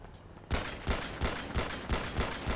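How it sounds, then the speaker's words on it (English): Rapid gunfire in the video game GTA 5, a sudden close burst followed by a rhythmic series of about six loud shots roughly every third of a second. "Shooting at RS at the front."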